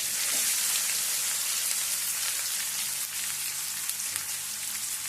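Onion pieces sizzle loudly in a pan of hot oil for a fish fry. A dense, crackling hiss holds steady and close for the whole stretch.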